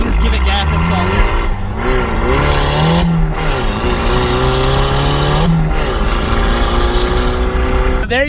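A Mazda Miata with a 1.6 engine and a cheap turbo kit revs loudly up close, its pitch climbing and falling through several throttle blips, with brief dips between pulls.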